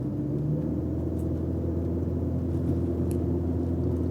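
A 2003 BMW E46 318i with the N42 engine, automatic in drive, accelerates hard from 60 km/h. A steady, fairly loud low engine and road rumble fills the cabin throughout, with no talking.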